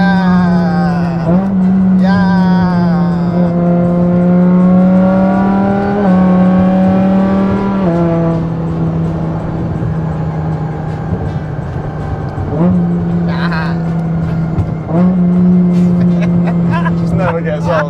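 Engine of a BMW M6 with a V10 and dual-clutch gearbox, heard from inside: a loud, steady drone with distinct rising and falling rev changes and shifts, close and continuous throughout.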